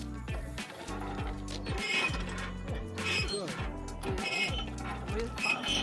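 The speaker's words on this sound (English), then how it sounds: "After the bean gets picked, it goes into a hand machine to get peeled." A hand-operated machine peels freshly picked coffee beans on a farm in Salento, Colombia, giving a close, rhythmic clattering and rattling of mechanism and beans in repeated cycles, with some voices in the background.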